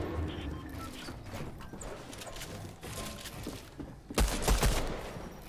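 SMG gunfire in a video game, a short loud burst of rapid shots near the end following quieter game sounds and scattered effects.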